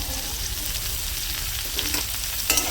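Chopped garlic fries with onion and cumin in hot oil in a wok, a steady close sizzle with a few stirring scrapes and clinks near the end.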